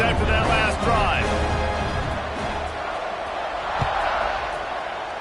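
A stadium crowd in the College Football 26 video game roars and cheers in a steady wash of noise, with a commentator's voice partly over it.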